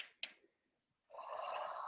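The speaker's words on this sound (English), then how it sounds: "Audible breathing, audible exhales." Audible breathing during a yoga class: a short sharp inhale or sniff, a quiet pause, then a long breathy exhale, close and soft.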